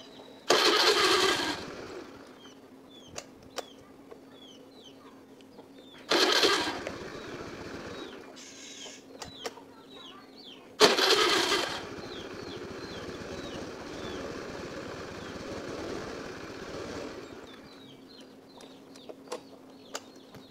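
A Honda Beat FI fuel-injected scooter with a fault that stops it moving when throttled cranks and fires in three short bursts, catching briefly and dying each time, with quiet gaps and birds chirping between attempts.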